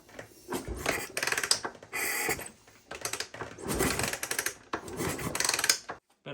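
A 1981 Honda XL500S motorcycle is given several light kicks on its kick starter with the spark plug out, producing a series of close, scraping mechanical strokes in uneven bursts with short pauses between them.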